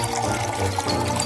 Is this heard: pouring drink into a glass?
yes